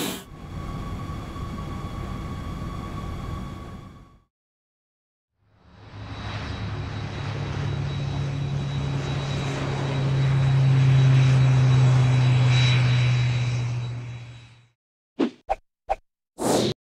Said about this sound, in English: Private jet.